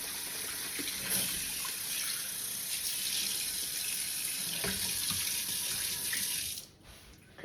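Potatoes washed under a running kitchen tap, a steady close hiss of flowing water that cuts off abruptly near the end.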